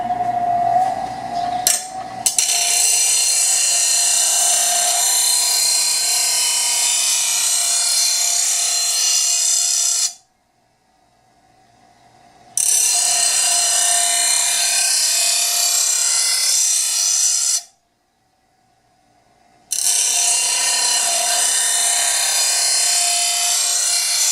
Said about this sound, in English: So let me grind away for a minute and we'll balance it again.